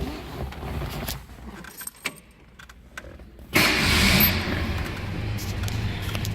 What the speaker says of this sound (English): Hear how nice and smooth that mileage master runs.